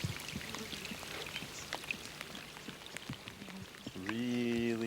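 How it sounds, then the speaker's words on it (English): Steady rain patters and hisses softly throughout, with a faint humming tone entering near the end. "really raining now."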